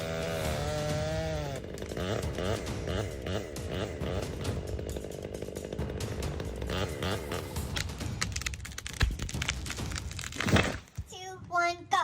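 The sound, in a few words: chainsaw cutting a big tree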